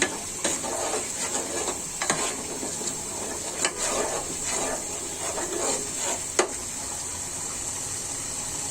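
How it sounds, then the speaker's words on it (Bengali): Blended bottle gourd peel paste fries in a pan with a steady hissing sizzle, broken by scattered scraping and stirring clicks, heard close and alone. "একটু ভেজে নিতে হবে এটা"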